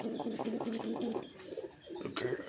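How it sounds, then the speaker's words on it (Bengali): A male pigeon coos nearby in a quick series of soft, low, repeated calls. A faint sharper noise cuts in near the end. "ঘুম ঘুম ঘুম ঘুম করে কিন্তু নটটা ডাকে"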